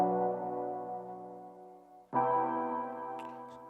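A spacious, heavenly synth pad from the Massive software synth, used as background for a guitar Afroswing beat: a sustained chord rings alone, fades slightly, then a new chord swells in brightly and holds.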